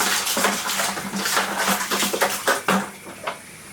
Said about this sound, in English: I'm just going to give that a rinse. Give that a rinse out, folks.